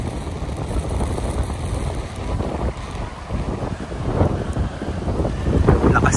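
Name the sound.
strong wind blowing by the sea during typhoon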